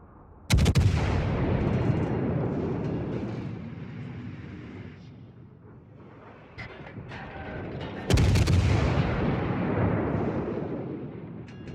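Battleship main guns firing in World of Warships, two heavy booming salvos several seconds apart, each a loud sharp blast followed by a long rumbling decay, with quieter distant gunfire between them.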